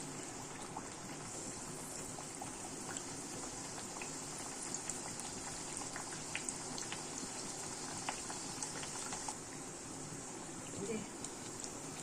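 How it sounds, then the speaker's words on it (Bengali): Luchi flatbread, rolled somewhat thick, frying in hot oil with a steady, close hissing sizzle and scattered small pops throughout, under a faint voice. "এইভাবে ভাজা হচ্ছে।"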